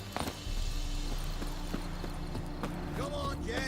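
Roach, the horse in The Witcher 3 video game, gallops with a steady, close clip-clop of hoofbeats while voices talk over the top.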